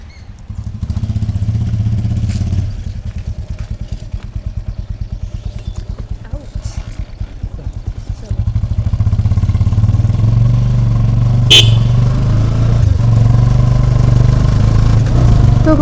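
A motorcycle engine drones loud and close while riding in traffic, its note rising and thickening as it speeds up midway, with a brief clatter later and no speech.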